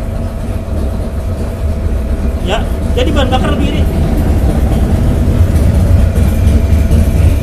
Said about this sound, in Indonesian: Dengan beban yang sama tadi, suara mesin kita masih halus.